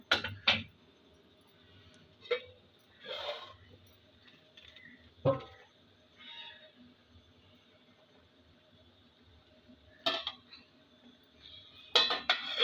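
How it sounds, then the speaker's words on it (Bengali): A metal lid lifted off a pot of steamed poultry chicken bhapa, with scattered clinks and knocks of metal cookware spread through the clip, some sharp and close, between quieter stretches. "একবার ঢাকনাটা খুলে আমি একবার দেখে নেব"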